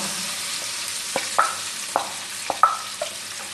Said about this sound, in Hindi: अब मैं इसमें प्याज डाल दूंगा।